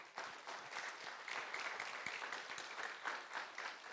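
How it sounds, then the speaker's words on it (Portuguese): Steady applause from a church congregation at a prayer service, many hands clapping in a continuous, fairly distant wash for several seconds. "Uma salva de palmas para eles."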